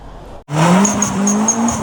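An AT190-body car with a swapped 3S-GTE engine launches with wheelspin, the engine roaring up and tires squealing loudly and close for a short burst.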